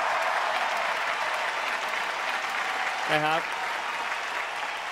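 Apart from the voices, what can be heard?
applause for crown ambassador students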